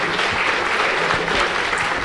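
An audience at an all-India educational conference bait baazi poetry contest in Aurangabad applauds a young student, a dense, steady burst of clapping throughout from a large hall crowd.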